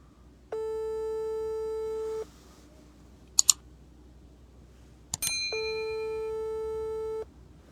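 Telephone ringback tone heard while waiting for a call to be answered, two long steady electronic ringing tones separated by a pause with a couple of sharp clicks between them, clear and alone.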